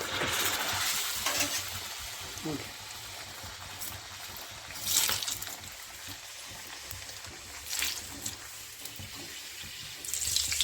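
Vada frying in hot oil, a steady sizzling hiss with a few brief louder bursts of crackling as the fritter is turned, close and without talk.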